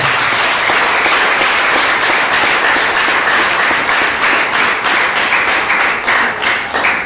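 Women in a church congregation in Rwanda break into loud, dense applause, sustained clapping from many hands filling the room throughout.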